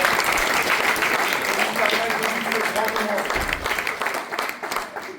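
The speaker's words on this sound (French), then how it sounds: "Un tonnerre d'applaudissements" An audience at a comedy festival applauds steadily, a dense wash of clapping that slowly fades, with a voice heard over it.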